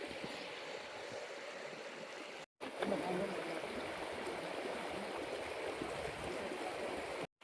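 Water from a hidden waterfall near the Pitalkhora caves flows steadily, nearby and moderately loud. The broadband rush breaks off briefly about two and a half seconds in, then carries on with no one speaking.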